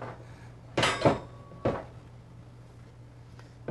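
Stainless steel stove cover being handled in a 2017 Cardinal fifth-wheel RV kitchen, giving a few close metallic clanks and knocks, two bunched together and one more shortly after, over a low steady hum.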